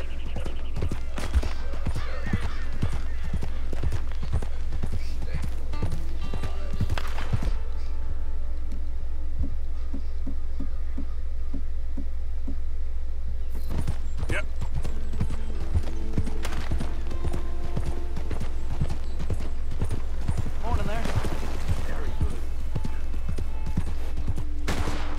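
Horse hooves clip-clop steadily in the Red Dead Redemption 2 video game, a continuous rhythmic patter with a brief quieter gap midway, set against game ambience and occasional distant gunfire.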